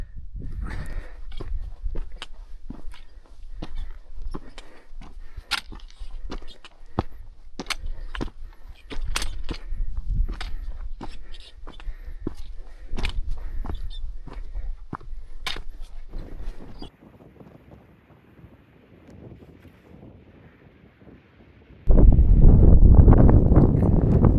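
Footsteps crunch along a mountain trail on a solo climb in the Western Taurus range, with steady, regular steps over wind noise. The steps stop and it goes quiet before a loud gust of wind hits the microphone.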